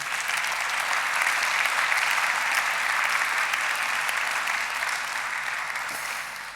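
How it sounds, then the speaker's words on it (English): Sustained audience applause at the European award for Freedom of Expression ceremony, a broad even wash of clapping that holds steady and slowly fades near the end. "A big applause to them again."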